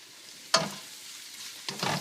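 Red cabbage sautéing in oil gets stirred twice, each pass a brief scraping swish over a soft, steady sizzle.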